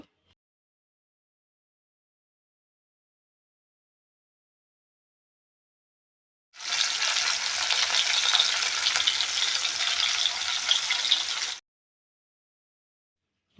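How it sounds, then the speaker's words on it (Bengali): Silence, then a burst of steady hissing as rohu fish pieces coated in salt and turmeric fry in oil for about five seconds, close and even, before cutting back to silence. "এখন নুন হলুদ দিয়ে ভালো করে মেখে ভাজা করে নেব, হালকা ভাজা করব"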